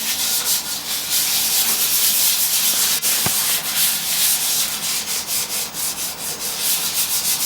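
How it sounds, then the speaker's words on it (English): Primer being hand sanded with light finger pressure and no sanding block, a close, steady scratchy rubbing hiss in repeated strokes, with one brief tap partway through. "Because of this, I don't use a sand block, but rather I just apply very light hand pressure."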